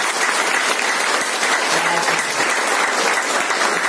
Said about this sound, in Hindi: और एक जोरदार ताली अंकल जी के लिए, जोरदार ताली होनी चाहिए।